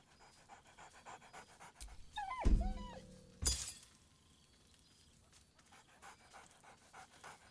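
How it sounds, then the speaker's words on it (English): Dog in the video game Baldur's Gate 3, panting excitedly with a couple of short sharp yelps near the middle, close and fairly faint against quiet background ambience. "barks merrily in something like agreement"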